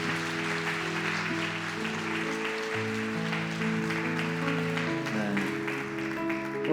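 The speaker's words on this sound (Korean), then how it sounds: "우리 다시 한번 뜨거운 박수로 함께 하자." Congregation applause in a Korean Sunday church service, a steady wash of clapping that runs the whole time beneath sustained organ or band chords and singing.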